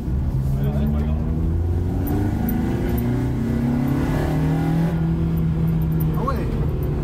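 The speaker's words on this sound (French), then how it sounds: "on va laisser la voiture chauffer gentiment" A Peugeot 205 sleeper engine idling and revving gently while warming up, a loud continuous low drone with slowly rising and falling pitch, people talking faintly under it.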